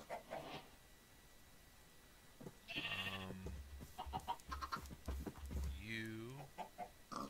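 Baby chickens in the video game Minecraft cluck and chirp in short bursts, mixed with other livestock noises, fairly quiet overall, with a voice speaking briefly among them.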